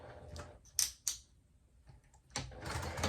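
A sewing machine stitches a zipper onto a bag made from upcycled jeans, sounding as short mechanical bursts and clicks separated by quiet pauses, close and fairly soft.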